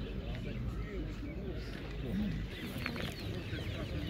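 White hens cluck softly at a busy poultry market in Kropotkin, with a low, continuous clucking under nearby talk and market chatter.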